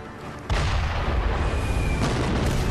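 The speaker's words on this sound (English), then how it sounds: "Oh dear. Fireworks." Fireworks explode in the action game Sekiro: Shadows Die Twice, a sudden loud blast that continues as a sustained, roaring rumble.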